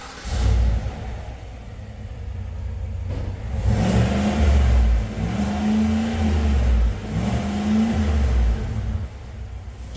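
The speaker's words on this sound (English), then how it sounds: "let's first have a listen to the original exhaust for reference" Holden Colorado ZR2 on its original factory exhaust, revved three times in succession, each rise a loud rumbling climb and fall over a steady idle.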